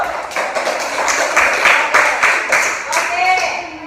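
A class of pupils in an Indonesian school lesson claps together, a close, busy patter of many hands that swells and then tapers off, with voices mixed in.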